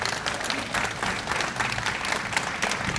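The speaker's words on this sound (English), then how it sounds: "Please, can we give them a round of applause?" Sustained applause from a conference audience honoring a panel of speakers, steady and dense clapping filling the room at moderate level for the full stretch.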